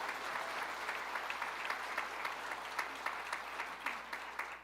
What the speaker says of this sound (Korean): 우리 하나님께 감사와 영광의 박수 드립시다.